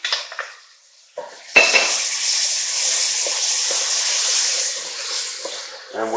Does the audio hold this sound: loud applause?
no